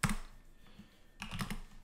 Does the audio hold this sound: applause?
no